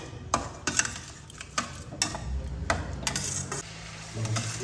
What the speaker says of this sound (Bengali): আমি এটাকে ভালোভাবে মিশিয়ে নিয়ে যতক্ষণ না পর্যন্ত এই রসুন আদা কাঁচা গন্ধটা না যাবে আমি এটাকে কষাতে থাকবো